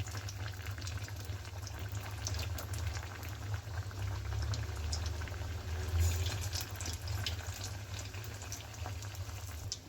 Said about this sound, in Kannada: ಈಗ ನಾವು ಮಾಡಿ ಇಟ್ಕೊಂಡಿರ್ತೀವಲ್ಲ ಅದನ್ನೆಲ್ಲ ನಿಧಾನವಾಗಿ ಎಣ್ಣೆಗೆ ಹಾಕೋಬೇಕಾಗತ್ತೆ.